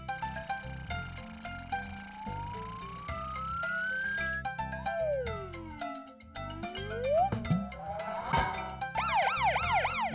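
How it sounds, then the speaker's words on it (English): Cartoon toy truck siren sweeping up and down in pitch over a bright musical backing, loud and clear, with a warbling wail toward the end. "That's a loud and clear siren."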